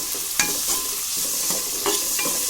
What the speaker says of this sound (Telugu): ఉల్లిపాయ ముక్కలు బాగా కలపాలి